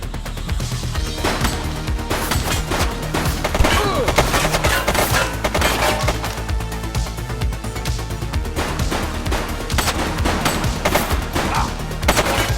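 A police shootout in the video game The Precinct erupts in sustained, loud automatic fire, overlapping bursts and impacts crowding together nonstop, with occasional shouted voices among the shots.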